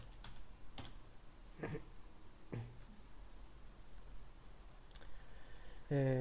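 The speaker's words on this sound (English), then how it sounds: "Okay, so I'm gonna type wallet." Sparse keypresses on a computer keyboard while entering a search term: a few separate clicks spread out over several seconds with quiet gaps between them, close to the microphone, and a brief louder burst right at the end.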